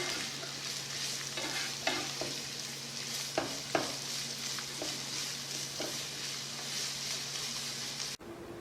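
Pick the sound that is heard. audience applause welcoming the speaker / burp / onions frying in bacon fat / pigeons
onions frying in bacon fat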